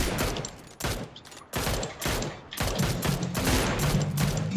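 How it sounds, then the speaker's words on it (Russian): Video game gunfire aimed at a motorbike's tires: dense bursts of rapid shots in several volleys with brief gaps, loud and close, without talk. "Колеса пробивайте у мотика."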